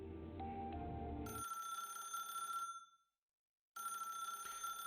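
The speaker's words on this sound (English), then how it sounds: "In the darkness, the ringing of the phone pinches your nerves." A telephone rings in the dark in the Path to Nowhere video game, a bright electronic ring sounding in two bursts separated by a brief silence, loud and alone over a fading low musical tone.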